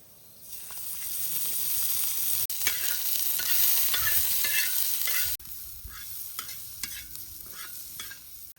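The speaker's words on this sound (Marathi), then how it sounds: "कांदा भुजून घेतो" Onion frying in a pan for Dhaba-style anda masala, giving a loud, steady sizzle with stirring scrapes that drops abruptly to a quieter, crackling fry partway through.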